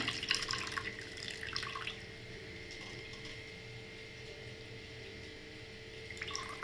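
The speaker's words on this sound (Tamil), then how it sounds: "நம்ம புளியை நல்லா கரைச்சாச்சு இப்போ வடிகட்டிக்கலாம்" Dissolved tamarind water poured through a strainer in a home kitchen, faint trickling and dripping liquid with soft clinks, quiet and close, with no talk.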